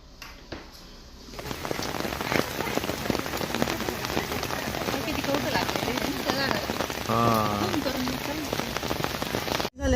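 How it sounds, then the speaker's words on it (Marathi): Heavy rain pouring down steadily on surfaces outside a temple, loud and dense, with a brief quiet start and a voice speaking faintly beneath. "इथं आल्यावर जोरात पाऊस चालू झाला ना"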